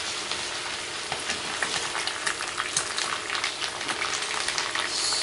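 Frozen minced meat and potatoes spit and crackle in a hot pan, a dense, steady sizzle with sharp pops scattered throughout, loud and close with no talking.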